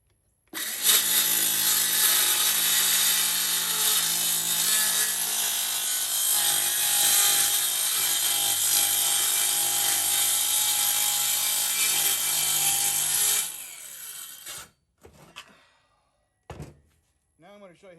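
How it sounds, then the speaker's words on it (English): A jigsaw plunge-cutting into wood runs loud and close with a steady buzzing, rattling drone for about thirteen seconds, then winds down and stops, followed by a few light knocks. "Now I'm going to show you how to do a plunge cut with a jigsaw."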